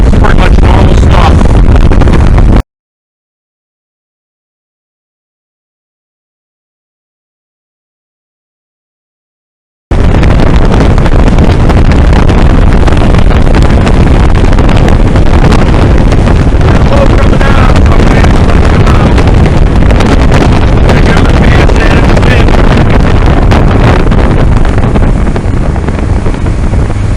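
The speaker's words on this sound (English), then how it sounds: "Wind kicked up, probably got about a 15 knot gale" Steady wind roar and water chop during a fishing boat ride to port on Lake Erie in roughly a 15-knot breeze. Loud, constant buffeting fills the whole recording apart from one silent gap of several seconds, and there is no talking.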